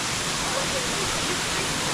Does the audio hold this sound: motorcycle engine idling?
no